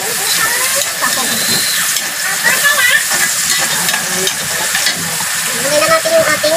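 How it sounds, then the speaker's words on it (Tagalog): Capon chicken sizzles and fries steadily in a pan while being stirred, with scraping stir strokes over a continuous hiss, close and fairly loud throughout, no talk. "halo na natin yung ating kapon"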